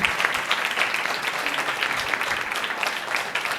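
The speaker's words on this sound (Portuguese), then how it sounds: "pedir uma salva de palmas porque fizeram isso acontecer aqui" An audience at a debate symposium in Porto Alegre breaks into loud, dense applause, a continuous wash of many clapping hands that holds steady for a few seconds, with no voices.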